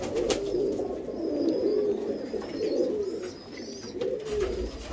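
Pigeons cooing steadily in a loft housing fancy breeding pigeons, a continuous soft low warbling chorus of overlapping coos, fairly close, with faint higher chirps above and no talking.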